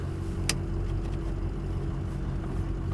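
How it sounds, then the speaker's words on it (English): A concrete pump truck arriving at a barndominium construction site for a concrete pour, its engine a steady low rumble close by throughout, with one brief sharp clank near the start. "That's a pump. We got us a pump."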